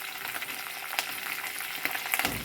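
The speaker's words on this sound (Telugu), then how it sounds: "వీటిని కొంచెం వేయించుకుందాము." Green and dry chillies fry in a pan with ginger pieces, giving a close, continuous crackling sizzle with a few sharper pops and stirring scrapes, and nobody speaks.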